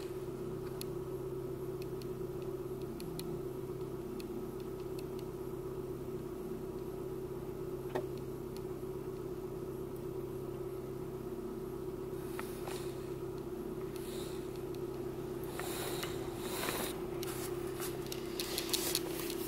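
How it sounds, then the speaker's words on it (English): Car engine idling steadily after a cold start in -12 Celsius morning cold, a constant low hum and rumble with a few faint clicks and rustles near the end. "Now the RPMs start to decrease"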